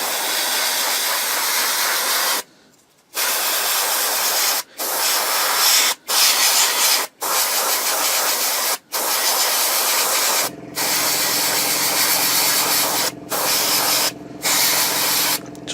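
An airbrush sprays MiG 00033 tyre colour onto the wheels of a Takom 1/35 British Chieftain Mk 10 model tank, a loud continuous hiss broken by brief pauses, with a low hum joining near the end.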